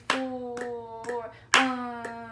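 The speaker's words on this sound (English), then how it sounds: "This time, clap and count with me" Five crisp hand claps in a regular 6/8 pulse during a music lesson, close and fairly loud, with faint counting voices between them.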